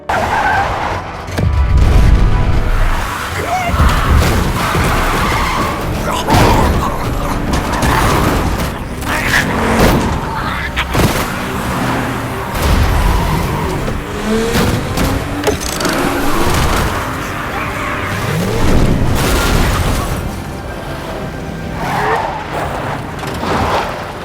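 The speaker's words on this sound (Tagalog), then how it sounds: "Mabilis niyang ipinapasok ang sasakyan sa makikitid na kalsada, umiiwas sa mga wasak na sasakyan" A film car chase races through narrow streets past wrecked vehicles, with loud tire skids, roaring engines and heavy crash impacts layered densely throughout, and voices briefly heard in the mix.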